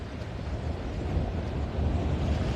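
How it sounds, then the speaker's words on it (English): Waves splash steadily against the Haulover Inlet jetty in Bal Harbour, Florida, a continuous broadband wash of surf mixed with wind rumble on the microphone, with no voices. "Take note of the splashes."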